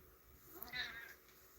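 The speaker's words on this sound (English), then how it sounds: "my cat is here" A house cat gives a single faint, rising meow indoors, short and soft against a quiet room.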